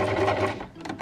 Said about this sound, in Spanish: Y ahora vamos a empezar a coser esta también por el margen.